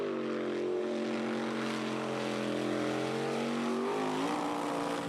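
A loud, steady jet boat racing engine roar with sustained droning tones that shift in pitch near the end as the motor revs, continuous and close with no voices.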